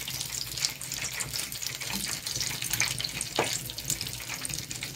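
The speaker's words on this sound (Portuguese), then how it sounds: "para mergulhar no óleo já quente" Breaded coxinha sizzling in hot oil in a shallow frying pan, a steady crackling hiss with scattered pops, close and continuous without any talk.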